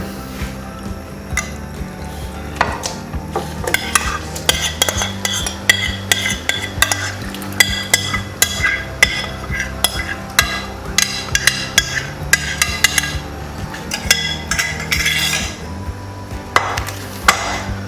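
Marinated chicken stirred in hot olive oil in a karahi for white chicken karahi, steady scraping of a spoon against the pan with sizzling and wet squishing, close and continuous.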